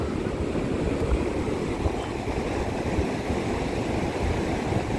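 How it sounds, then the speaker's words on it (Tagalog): Calm, low ocean waves wash continuously at Lingayen beach, a soft, steady surf rush heard fairly faint with light wind and no voices. "Yan ang alon, no? Maganda nga yung alon dito, hindi mataas eh."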